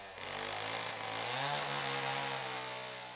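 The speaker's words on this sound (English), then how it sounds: "the sounds of chainsaws made me stop" A chainsaw cutting wood in central Nigeria, its engine revving up into a loud, sustained whine with a rising pitch, then holding steady close by before easing slightly.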